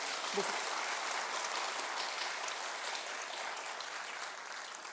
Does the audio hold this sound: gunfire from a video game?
no